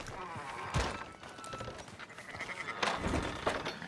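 Sheep bleating in the Red Dead Redemption 2 video game, a few short bleats over low ambient noise with faint game voices and hoof clops around them.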